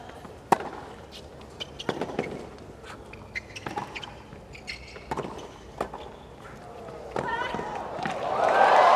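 Tennis racket strikes in a rally between Pliskova and Lucic-Baroni at the 2017 Miami Open quarterfinals: sharp, separated pops traded back and forth at a moderate distance, under steady commentary and crowd murmur that swells near the end.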